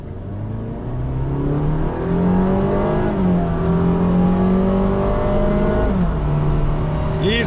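A Honda Fit Hybrid with a robotized gearbox accelerates hard from a standstill toward 100 km/h, the engine note rising steadily and droning, then dipping briefly at a gear change before climbing again, heard from inside the cabin.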